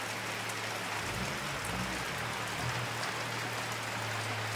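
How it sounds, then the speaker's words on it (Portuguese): Rain falls on a construction site where concrete footings and beams are being poured, a constant dense hiss over a low steady hum, with no pauses or talk. "agora tivemos que dar uma parada, esperar a chuva passar e continuar de novo."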